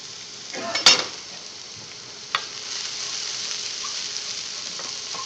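Shallots and garlic hit hot olive oil in a pan, giving a steady, moderate sizzle that holds throughout, with a couple of sharp clinks or taps near the start.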